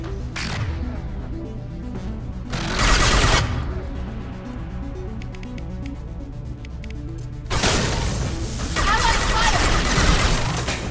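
Mass Effect 2 combat gunfire comes in loud bursts of rapid shots and booms, with a short volley early on and a longer heavy barrage later, over a constant low game soundtrack and occasional speech.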